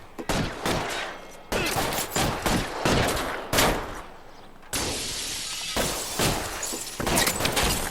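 Rapid bursts of gunfire from a shootout in the video game LA Noire, loud and dense, with repeated volleys and sharp cracks that stop briefly before resuming through the whole stretch.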